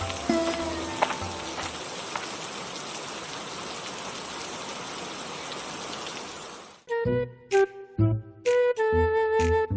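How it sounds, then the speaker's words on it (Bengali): Heavy rain pours in a dense, continuous roar for most of the clip in an animated scene, then cuts abruptly to choppy, tonal animation sound effects. "বাইরে তো খুব জোরে বৃষ্টি নামছে"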